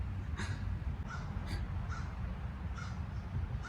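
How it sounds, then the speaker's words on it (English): Ravens or crows caw several times in short, scattered calls. They sound somewhat distant over a constant low rumble of outdoor background noise. "These ravens or crows, sorry, really keeping an eye on me."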